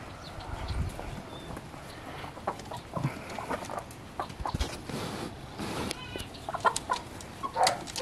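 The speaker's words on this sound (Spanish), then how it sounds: "Vamos a buscar a ver si hallamos al gallo negro que les digo." A black rooster clucking on a ranch among other farm animals, irregular short clucks and calls scattered through the clip at moderate distance, with rustling and footsteps around them.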